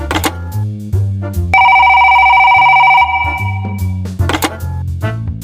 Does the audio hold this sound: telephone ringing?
yes